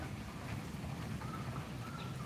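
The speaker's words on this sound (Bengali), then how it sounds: "এখন বৃষ্টি কিছু কমেছে" Rain falls steadily in a dense, even hiss of drops close by, continuous and unbroken with no voices.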